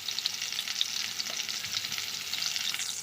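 Potatoes seasoned with salt and turmeric fry in a pan, giving a steady, close crackling sizzle with small pops throughout and no talking.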